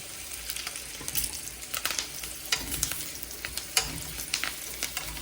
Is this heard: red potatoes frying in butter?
yes